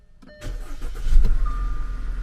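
A 2.0 turbo engine in a small Audi SUV with high mileage cranks briefly, catches and settles into a steady, close idle.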